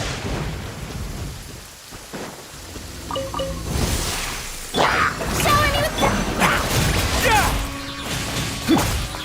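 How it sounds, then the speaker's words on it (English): Rain and rolling thunder in the video game Genshin Impact, a steady patter with heavy crashes, while characters speak over the storm in the middle. "Ah, it's raining?"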